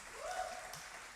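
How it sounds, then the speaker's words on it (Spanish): A church congregation applauds, a faint, steady wash of many distant claps sustained for about a second, with a brief tonal sound near the start. "Denle un aplauso al Señor"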